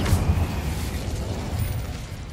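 Incendio fire spell cast in Hogwarts Legacy, a whooshing, roaring burst of flame that swells at the start and rumbles on steadily for a couple of seconds.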